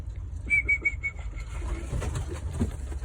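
Pigeons at a loft, including a carrier pigeon and a young bird, give a short series of soft repeated coos and whistly notes, close but quiet over low rumbling background noise.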